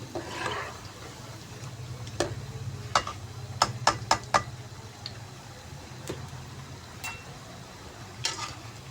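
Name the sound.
moong dal pakoras frying in ghee, pressed in the pan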